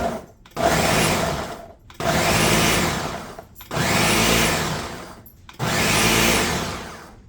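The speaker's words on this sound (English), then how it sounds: "This is that blender we bought in the auction here a while back" An old auction-bought blender runs in four pulses of about a second and a half each, chopping habanero salsa ingredients, with a loud grinding whir that starts abruptly and fades slightly before each stop, short silent gaps between bursts.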